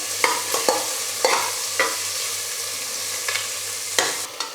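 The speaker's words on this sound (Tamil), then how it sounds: "வெங்காயம் நல்லா வதங்கட்டும்." Chopped onions and green chili sautéing in a pan, a steady close sizzle with repeated scraping stir strokes spaced irregularly throughout, no voices.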